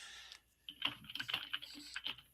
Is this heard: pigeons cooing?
no